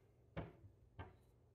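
An old dog bracing against a wooden armoire in an enclosure makes two dull knocking thumps about half a second apart, faint and close.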